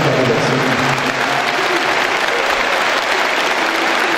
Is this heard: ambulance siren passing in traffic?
no